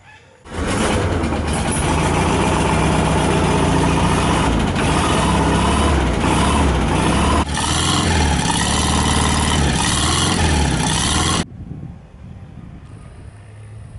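A Volkswagen Kombi engine turns over and settles into a loud, steady idle with broadband rumble, running for about eleven seconds before cutting out to quieter background.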